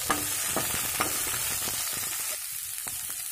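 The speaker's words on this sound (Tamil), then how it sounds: "வெங்காயம் நல்லா வதங்கட்டும்" Two medium onions sautéing in a pan for Tamil vadacurry, a steady close sizzle with scattered crackles and occasional spoon scrapes, heard alone without talk.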